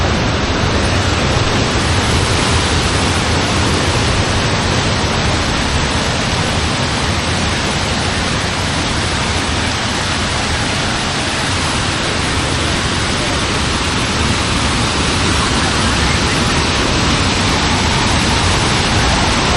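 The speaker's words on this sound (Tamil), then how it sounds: "போக போக வாட்டர் ஃப்ளோ அதிகமாக தாங்க இருக்குது" Strong, continuous rush of fast-flowing water near Chennai, a dense roaring wash that fills the whole clip without pause, loud and close like a torrent or small waterfall.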